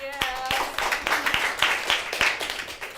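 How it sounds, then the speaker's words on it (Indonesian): Hand clapping at an Indonesian live comedy show, with a series of sharp claps at an uneven pace, spread over about three seconds, mixed with crowd noise and voices talking over it. "tepuk tangan tuh Flora."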